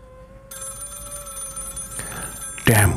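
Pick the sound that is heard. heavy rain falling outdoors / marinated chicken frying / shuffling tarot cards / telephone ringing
telephone ringing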